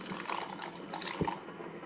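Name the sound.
pouring water into a pan for payasam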